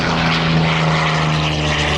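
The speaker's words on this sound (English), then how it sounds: "and that's the Allison engine" An early P-51 Mustang with its Allison engine flies past at an airshow, a loud, steady propeller drone with a strong low hum that holds level throughout.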